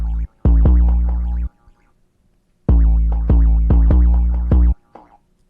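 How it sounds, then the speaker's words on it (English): Deep 808 bass hits in a trap-style beat, two bursts of rapid booming notes with pitch slides separated by a gap, loud and alone. "Moving into my 808s, I have two 808 patterns. This is the first one. It sounds like this."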